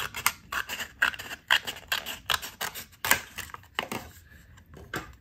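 A blade cuts through an old book cover for a junk journal, giving a series of close, crisp snipping and scraping strokes in an irregular rhythm, fairly quiet with no talk.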